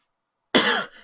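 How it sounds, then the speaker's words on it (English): A man gives a single sharp, loud cough close to the microphone, a harsh burst that trails off after about half a second of silence. "I've got quite a cough today."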